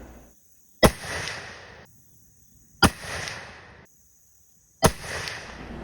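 Three muzzleloader shots of a four-pellet 777 Fire Star load behind Hornady 300gr SST bullets, evenly spaced about two seconds apart, each a sharp loud crack with a short outdoor echo and silence between.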